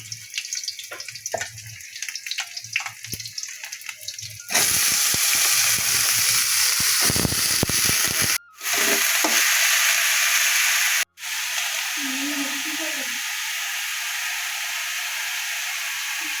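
Bay leaf and nigella seeds dropped into hot oil, bursting into a loud, steady sizzling hiss that goes on unbroken apart from two brief gaps, with quieter kitchen sounds before it starts.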